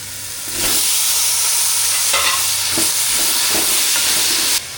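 Ginger garlic paste fries in a pan for a chicken fry, a loud continuous hiss and sizzle that starts abruptly, runs steadily with faint stirring taps, then cuts off.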